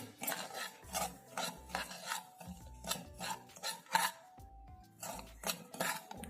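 Upma rava semolina being dry-roasted in a pan, a steady run of soft scraping and rasping strokes as a utensil stirs the grains, with faint clinks against the metal, close and fairly quiet.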